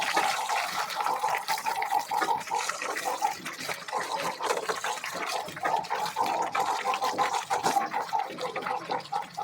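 Small fish frying in hot oil in a pan, a continuous crackling, bubbling sizzle that pulses unevenly and stays fairly close and loud throughout.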